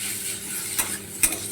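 Garlic dropped into hot oil in a pan over onions that are already fried, cooking for a Bengali rui fish curry: a short, steady hiss of sizzling oil with two quick, louder bursts, close by.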